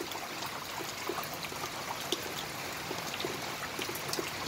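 Flood water flows and splashes nearby in a continuous, fairly loud rush with scattered trickling drips, with no voices over it.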